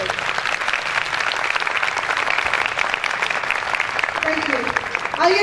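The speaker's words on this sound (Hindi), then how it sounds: "यीशु के जलाल के लिए जोरदार तालियां बजाइए।" A church congregation claps loudly and without a break, a dense wash of applause that fills the whole stretch with voices murmuring underneath.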